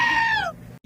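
A small show goat lets out a single loud, close bleat that wavers and falls away, then stops abruptly.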